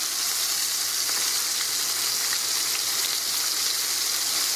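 Green tomato slices frying in overly hot grease, a loud, dense, continuous sizzle with fine crackling that holds steady and close throughout, no voices.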